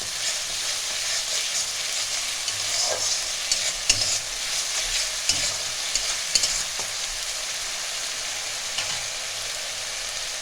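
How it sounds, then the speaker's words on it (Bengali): Garlic paste and four green chillies frying in a pan for Bengali bhola fish jhal, a steady bright sizzle broken by several distinct spatula scrapes and taps, no voices. "এতে আমি 4টে কাঁচা লঙ্কাও দিয়েছিলাম। এগুলো ভালো করে একটু ভাজবো।"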